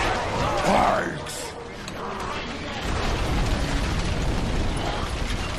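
Explosions and crumbling impacts roar continuously as siege units level buildings in the real-time strategy game Battle for Middle-earth II, a dense battle din with a louder burst early on.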